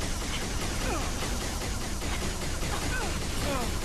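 Rapid gunfire during a firefight in Halo: Reach, a dense, hissy, continuous crackle of shots with no clear gaps, moderately loud and filling the whole stretch.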